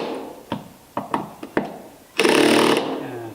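A power driver does the final torquing on wood screws set into a repaired wooden boat plank: several short sharp clicks, then one loud half-second whir, close up, with no voices.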